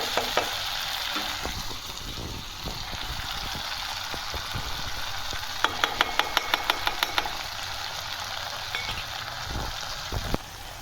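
Vinegar, sauces, turmeric and salt sizzle and hiss steadily in a hot pan, with a few brief clicks and scraping stirs over the continuous frying noise.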